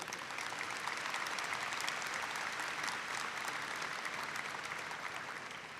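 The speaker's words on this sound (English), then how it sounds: "a round of applause for the recent member of the class of 2015, Governor Beshear" A commencement audience at Murray State University in May 2015 applauds Governor Beshear with dense, steady clapping that holds evenly throughout and sounds somewhat distant.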